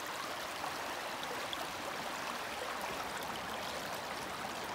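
Water runs steadily through a small side channel of a salmon stream, a continuous broadband rush and trickle heard close by with no voices.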